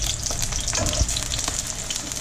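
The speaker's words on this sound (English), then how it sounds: "it's important to get them nice and sauteed" Vegetables sauté in a hot pan for maqluba, giving a lively, continuous sizzle with crackles and soft stirring scrapes close by.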